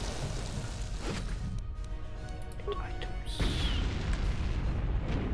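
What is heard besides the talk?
explosions in the video game Star Wars: Knights of the Old Republic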